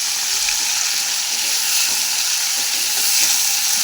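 Chana dal frying in hot oil with green chillies and curry leaves for a cabbage dish gives a steady, close, even sizzle that runs unbroken throughout with no talking.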